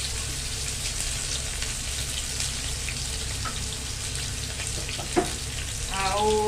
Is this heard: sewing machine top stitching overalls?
no